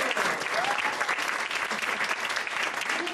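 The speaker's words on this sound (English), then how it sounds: "Big applause." Audience at a standup magic show in Lisbon giving loud, continuous applause, dense close clapping filling the whole moment with a faint voice briefly heard.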